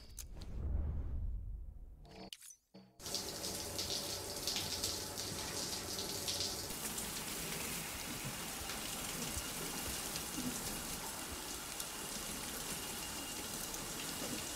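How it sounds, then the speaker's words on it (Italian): Shower running in a video game, a steady hiss of spraying water and droplets pattering on a surface, starting after a brief quiet dip and continuing evenly. "Ok, di nuovo facciamo doccia"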